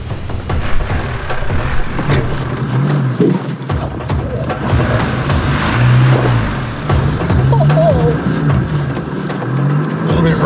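A Colorado 4x4 grinding up a steep, rough off-road track on Mt Separation, its engine droning loud and close with rising revs, while voices talk over it.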